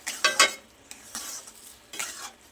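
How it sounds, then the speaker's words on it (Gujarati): A spoon stirs sugar into mango sheera in a kadai over a low flame, giving a few close scraping strokes with soft sizzling between them and no talk. "બધું સરસ મિક્સ કરી લઈએ."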